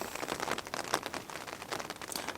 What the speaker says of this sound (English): It's not raining like crazy hard.